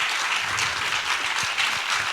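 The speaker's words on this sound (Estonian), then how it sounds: "Let's give an applause." An audience at a talk applauds in a continuous, even wash of clapping, moderately loud and unbroken by voices.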